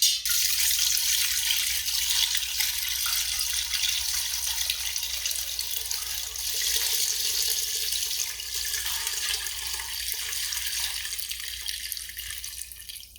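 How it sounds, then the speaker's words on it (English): Homemade chicken stock pours through a strainer funnel into a pot, a steady splashing liquid stream that runs continuously for several seconds, close and moderately loud with no voices. "while I pour that liquid through"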